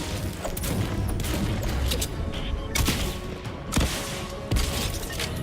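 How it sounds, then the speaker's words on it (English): Sustained, dense gunfire in an online shooter game with bot players, a continuous rattle of shots with sharper bursts near the end. "Whoever's shooting at me right now seems fairly keen as well"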